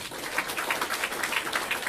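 An audience applauds during a marketing-plan talk, a steady, moderately quiet patter of many hands clapping together for a couple of seconds with no voice over it.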